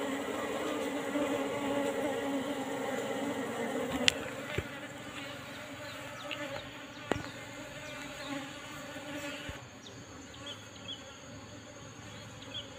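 A colony of Apis cerana honeybees drones in a dense, continuous buzz inside a hive box, heard close and steady, with a few sharp clicks and knocks over the hum and no talking.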